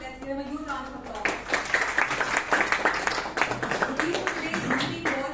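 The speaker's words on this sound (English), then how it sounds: "Let's give him a huge round of applause." A Toastmasters club audience in Bangalore breaks into applause for a speaker, clapping steadily and loudly for several seconds after a short stretch of talk.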